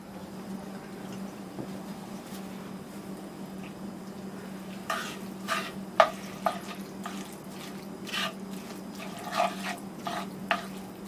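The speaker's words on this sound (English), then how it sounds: "You're going to need 3 tablespoons of brown sugar. We'll go ahead and give that a stir." Brown sugar is stirred into sloppy joe sauce in a pan over a low flame, with a quiet background hum and, after a calm start, a run of sharp scraping strokes of the spoon at an irregular pace.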